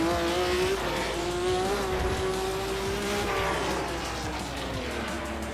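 Loud, sustained roar of an air-cooled racing car engine with a rising and falling harmonic pitch and a constant dense rumble underneath, holding close and steady with no talk.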